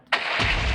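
A fireball is launched in a Minecraft Bed Wars match, and a sudden whooshing blast starts after a brief quiet moment, then rolls on as a loud, broad rumble through the rest of the short moment.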